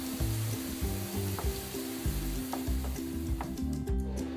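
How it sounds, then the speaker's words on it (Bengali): Prawns for a Bengali chingri bhuna fry in oil in a pan, giving a steady, close sizzle with occasional stirring scrapes over low background music. "মাছগুলো আমি ভেজে নেব।"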